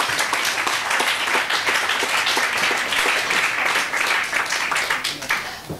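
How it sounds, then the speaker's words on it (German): Audience at a film festival talk applauding, dense sustained clapping from many hands filling the room for several seconds. "Respekt, auch also das hat einen Applaus verdient"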